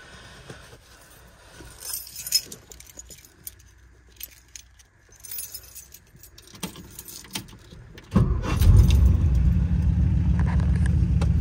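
Keys jangle and clink for several seconds while someone searches inside a 1957 Ford Fairlane 500 Town Sedan with a 292 Y-block V8, followed by a sudden loud, steady engine rumble as the car starts and runs.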